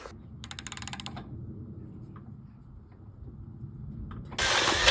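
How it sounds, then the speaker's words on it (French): Ratchet clicking rapidly while tightening a bolt on a flail mower, a short burst of dense mechanical clicks near the start, then quieter handling noises and a loud hissing rush at the end. "Donc je vais revisser ça comme il faut."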